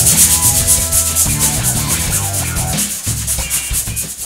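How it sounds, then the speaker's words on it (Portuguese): Hand sanding the edges of a Lifan motorcycle part with 80-grit sandpaper, a steady scratchy rubbing in rhythmic back-and-forth strokes, close and continuous with no talk. "Então eu vou dar uma quebrada agora nas bordas aqui do lixamento."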